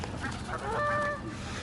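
Geese and ducks call out at a bird park crowded with waterfowl, a rising honking cry with clear tonal harmonics swelling for under a second above steady outdoor background noise.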